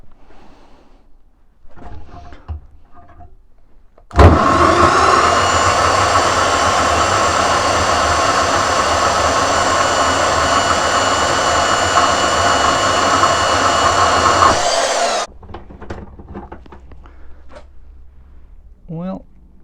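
A Workzone portable band saw cuts through a metal threaded rod, a loud, steady whine and grind lasting about eleven seconds before stopping abruptly, with quieter handling noises and brief talk before and after.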